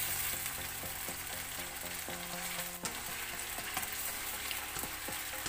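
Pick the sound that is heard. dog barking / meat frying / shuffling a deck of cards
meat frying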